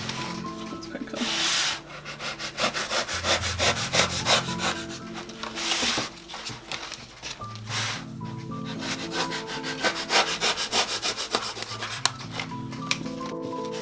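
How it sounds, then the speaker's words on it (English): Wood is hand-carved for a praying mantis Exo Terra enclosure, with close, rhythmic scraping and rasping strokes repeating in quick bursts and short pauses between them, as if sped up. "here's a little bit more ASMR for you, this time carving style"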